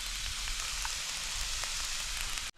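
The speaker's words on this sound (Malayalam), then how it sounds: "ഇത് നാല് പച്ചമുളക് കീറിയത് അത് ഇട്ട് കൊടുക്കാം പിന്നെ കുറച്ച് എൻ്റെ ഒരു പിടി മല്ലിയില അതും ഇട്ട് കൊടുക്കാം" Split green chillies and a handful of coriander leaves hit hot oil in a pan, giving a steady, close, loud sizzling hiss that runs unbroken with no talking.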